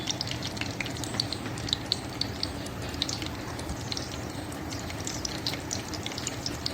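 Cumin, urad dal and chana dal crackle and sizzle in hot oil as a tempering, a dense steady frying hiss with sharp popping spatters throughout, close and loud with no talking.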